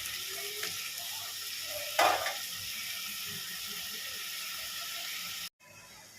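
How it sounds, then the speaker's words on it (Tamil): Tomatoes sauté in a pan for a mutton curry with a continuous close sizzle and hiss, one brief louder stir or scrape near the start and a sudden cut near the end. "இப்போது தக்காளி நல்லா சீக்கிரமாக வதங்கிடும்."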